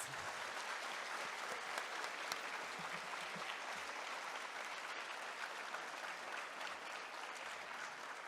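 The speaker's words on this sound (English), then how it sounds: "Please give them a large round of applause." Sustained audience applause fills a high school Veterans Day assembly honoring veterans, a steady dense clapping from a large crowd lasting throughout with no break.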